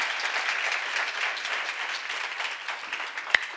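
Steady clapping from a church congregation during a seminar sermon, an even wash of many hands that holds at the same level throughout.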